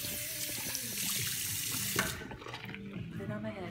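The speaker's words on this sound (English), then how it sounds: "So I go into the bathroom and I go up the sink to the washcloth. I washcloth and I put the water on it." A bathroom sink tap runs water onto a washcloth, giving a steady, close hiss for about two seconds before cutting off into a quieter room with faint movement.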